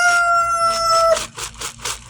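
Backyard chickens and a rooster: a long, loud drawn-out crow is followed by a quick run of short clucks and squawks, with no one talking.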